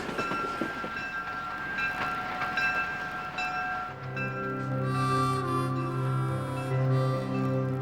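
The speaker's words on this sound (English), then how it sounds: "We'll stop the train right in front of the historic station." A gold rush-era train rolls into the historic Lake Bennett station, its wheels rumbling and clattering before long, steady brake squeals and tonal rail whine take over as it slows, close and loud, with no voices.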